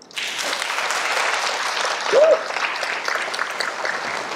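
A lecture audience breaks into applause, a full, even rush of many hands clapping that starts sharply and holds steady, with a brief louder burst midway.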